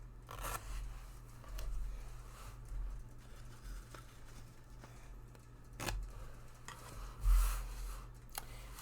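Washi tape is handled quietly over a planner page: soft rubbing and scraping, with a few sharp ticks and tearing rasps scattered through a faint background hum.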